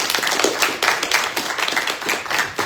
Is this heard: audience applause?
yes